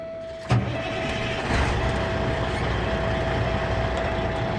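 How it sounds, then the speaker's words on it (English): A manual-transmission truck engine cranks briefly and catches, then settles into a steady, close idle with a constant low rumble and a thin whining tone running through it. "I'm going to push in the clutch and start the truck."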